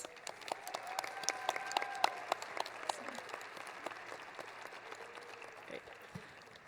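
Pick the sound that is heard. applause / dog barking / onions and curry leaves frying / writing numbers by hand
applause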